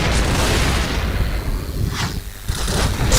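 A loud, dense rumble of explosions and gunfire in the shooter game Point Blank fills the whole stretch, with booming bursts layered over one another and no quiet gaps.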